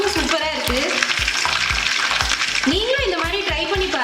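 Quail pieces frying in hot oil in a home kitchen give a loud, steady sizzle with rhythmic scraping knocks of stirring, while a voice talks over it.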